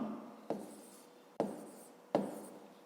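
Pen writing numbers on paper while working a fifth-grade math exercise, three quick scratchy strokes each fading into soft rubbing, close and quiet.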